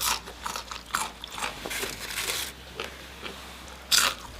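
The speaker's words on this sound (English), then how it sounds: "Wasn't that crunchy?" Crunchy semolina and potato french fries bitten and chewed up close, with a series of crisp crackling crunches spread irregularly over several seconds and a sharper crunch near the end.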